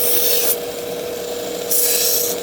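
A pocket knife blade bevel is ground in a steady abrasive rasp that grows louder and brighter in two stretches, with no talking.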